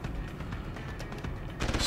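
Gunfire from the shooter game Deus Ex: Human Revolution, a dense stream of rapid shots and bursts, loud and continuous, growing heavier at the very end.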